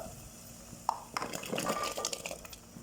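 Chopped cassava dropped into boiling water in a pressure cooker, a soft clink of utensil on metal followed by splashing and bubbling, quiet and close.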